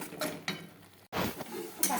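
Spiced goat meat is stirred and sautéed in a pot, with a spoon scraping and clinking against the metal in short bursts. A voice is also audible.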